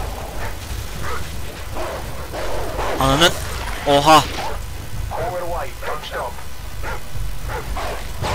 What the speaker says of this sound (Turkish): Bak köpek geliyor.